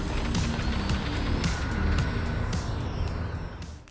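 The jet engine of an L-39 throttles back to idle during landing, a loud steady roar that eases and fades toward the end, with a few rhythmic thumps running through it.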